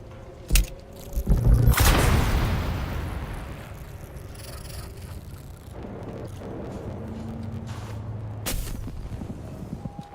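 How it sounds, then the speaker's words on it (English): A grenade detonates in a video game set in a Dune trial, a loud booming blast preceded by a sharp crack, its rumble decaying over several seconds, with further distant shots later. "Grenade out!"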